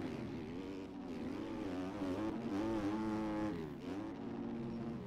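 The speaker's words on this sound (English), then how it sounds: "Nice little engine braking." Motocross bike engine in the MX Bikes racing game, a steady, loud, buzzing engine drone with shifting pitch as the rider backs off the throttle, engine braking continuously through the stretch.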